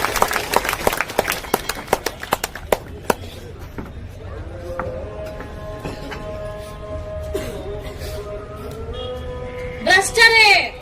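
An audience at a National Youth Day convention held by a political party in Karnataka applauds to welcome state secretary Indira Reddy: a burst of scattered, sharp claps that thins out within a few seconds, followed by music and voices.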